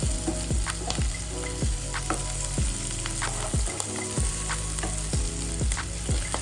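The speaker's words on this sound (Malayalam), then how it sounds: "ഇതിപ്പം തിരിച്ചും മറിച്ചും എല്ലാം ഇട്ടിട്ട് നമുക്കൊന്ന് ഫ്രൈ ചെയ്തെടുക്കാം" Kallummakkaya mussels shallow frying in oil in a pan, a loud steady sizzle broken by repeated clanking knocks and scrapes of a utensil turning them, close and with no talking.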